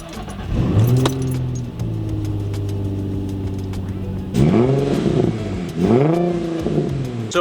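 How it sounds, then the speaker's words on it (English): An Infiniti G35 coupe's engine cranks and catches, idles steadily, then revs up twice with rising and falling pitch, close by. "turn on the car, make sure everything's running properly"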